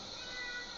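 A ragdoll cat gives a short, faint meow while being groomed, a single brief cry over a low background hiss.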